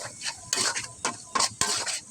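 Egg bhuna curry being stirred in a pan, with a few sharp scraping strokes in quick bursts, close and fairly loud, and no talking.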